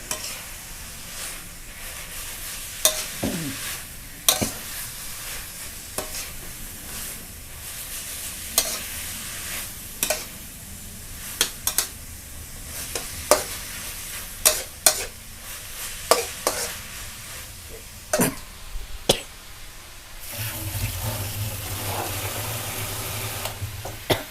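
Chayote shoots stir-fried in a hot pan over the highest flame, with a steady sizzle under repeated sharp clacks of a spatula against the pan, and a louder hiss of added liquid near the end.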